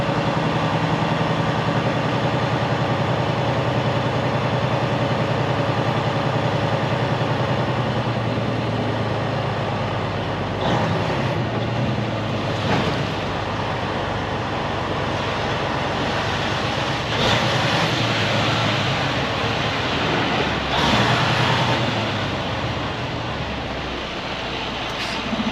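Steady low engine rumble of an Amazon trailer hostler truck idling continuously, fairly loud and close, with a few brief louder swells; no voices.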